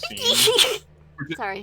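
A single loud, close sneeze, followed by a brief spoken apology.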